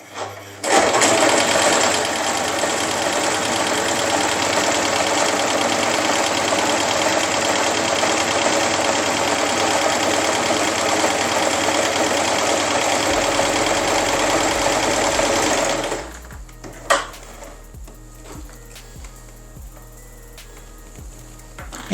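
A Moonstar 990P household straight-stitch sewing machine runs a decorative stitch pattern, a loud, steady, fast mechanical whirring for about fifteen seconds that stops abruptly, followed by a few faint clicks and a low hum.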